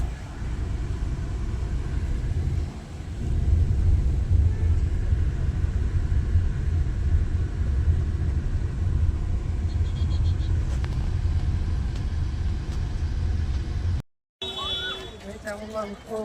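A car rolls into a parking area at a hilltop temple in Chotila, its engine a steady, close low rumble that drops out abruptly near the end.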